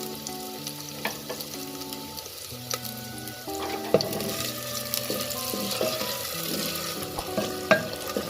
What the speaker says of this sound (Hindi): तो अब हम इसमें दाल शामिल कर देंगे